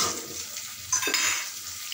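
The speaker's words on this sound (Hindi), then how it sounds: "अब हम इसमें टोमेटो डालेंगे और हम इसे दो मिनट तक ऐसे ही चलाएँगे" A spoon stirs chopped tomatoes frying in a pan, giving a steady soft sizzle with a few scraping and clinking strokes against the metal, close and alone.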